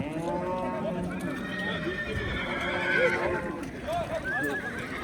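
At a livestock market in Chiroqchi selling horses, foals and mares, a horse neighs with a rising whinny, another answers, and hooves clip-clop nearby while people talk in the background.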